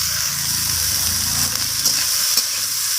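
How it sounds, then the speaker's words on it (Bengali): Steady, close sizzling of soybean chunks frying with tomatoes in a pan, with soft scraping and stirring sounds running throughout. "তো আমি সয়াবিনগুলোকে টমেটোর সাথে আমি নাড়াচাড়া করে ভাজা ভাজা করে নিচ্ছি।"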